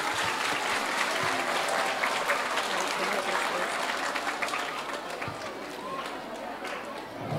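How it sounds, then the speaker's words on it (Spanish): An audience at a music recital breaks into loud sustained applause to welcome a music teacher, a thick wash of clapping with some crowd murmur that eases slightly toward the end. "La recibimos con un fuerte aplauso."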